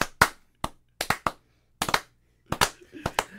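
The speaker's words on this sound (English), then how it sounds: "I think we need a slow clap." A slow clap: a handful of sharp, separate hand claps spaced irregularly about half a second apart, close and dry against near silence.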